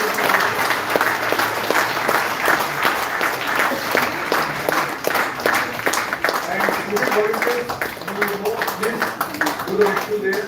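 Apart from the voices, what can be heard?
audience applauding the students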